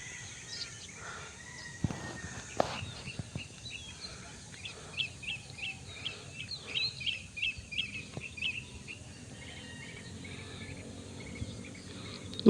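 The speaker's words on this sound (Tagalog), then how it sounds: "Maririnig mo dito, ibon." Birds chirp faintly and intermittently outdoors at a hot housing development in San Mateo, Rizal, with soft calls scattered over a quiet background.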